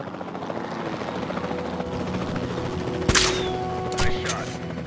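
Helicopter rotor chopping steadily in a dinosaur video game, loud and continuous, with sharp tranquilizer gunshot cracks around three and four seconds and game voices faintly underneath.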